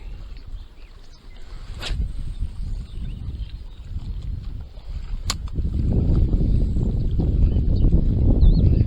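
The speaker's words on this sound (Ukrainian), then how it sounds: "Вітер просто треш, я вам скажу, у мене тут." Strong wind buffets the microphone outdoors while fishing in a steady low roar that grows louder toward the end, with a couple of sharp clicks and no talking.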